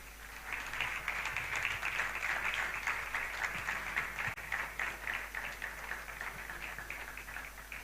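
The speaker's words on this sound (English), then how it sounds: "Keep clapping, keep clapping." Sustained conference audience applause, a dense, steady wash of many hands clapping that swells at the start and thins slightly toward the end, with no talking.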